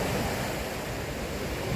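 Stormy ocean surf and strong wind on a beach in Sochi, a dense, continuous roar of crashing waves and buffeting gusts, loud and unbroken.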